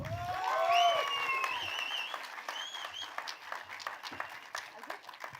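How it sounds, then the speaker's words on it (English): Audience applause at a film trailer launch event: a dense burst of clapping, loudest early and tapering off over several seconds, with faint voices and a couple of whistles mixed in. "Round of applause, everybody, once again."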